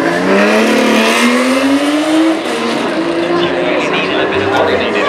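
An Aston Martin Vulcan track-only supercar roars past at a hillclimb festival, its loud engine note climbing through the revs then dropping as it shifts and recedes, with a voice talking over the run.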